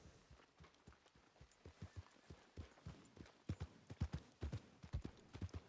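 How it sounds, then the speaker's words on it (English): Horse hooves clip-clop in an irregular, quickening rhythm through a town in the Western game Red Dead Redemption 2, with several animals moving close by and the beats growing louder and denser toward the end. "Horses in town."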